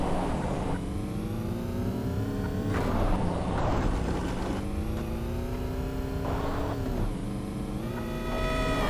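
Engine of a car driven in a video game, a steady loud drone that rises and falls in pitch through repeated revs and gear changes, running continuously without speech.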